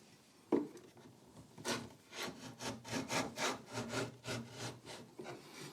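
A hand chamfer plane shaves along a wooden edge with a series of rhythmic rasping strokes, close and moderately quiet, each pass distinct and repeated about a dozen times.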